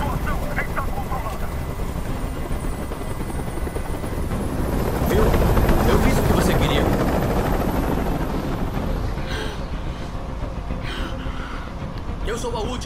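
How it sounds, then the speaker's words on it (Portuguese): A helicopter in the Detroit: Become Human video game gives a continuous, fairly loud rotor drone that builds to a peak midway, with a raised voice speaking over it. "Eu não aguento mais esse barulho! Esse helicóptero tem que sair daqui agora!"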